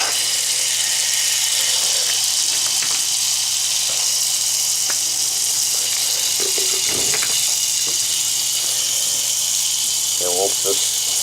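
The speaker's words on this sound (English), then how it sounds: "So I'm going to grab a screwdriver and open the drain valve to the water heater." Water rushes steadily from an opened drain valve on a residential water heater, a loud continuous hiss and gush throughout, broken by a few faint knocks and a brief gurgle near the end.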